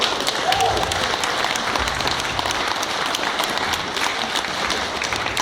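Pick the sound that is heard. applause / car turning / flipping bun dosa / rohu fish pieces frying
applause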